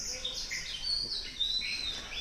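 A small bird chirps in a series of thin, high whistling tweets, faint and somewhat distant over a quiet outdoor background.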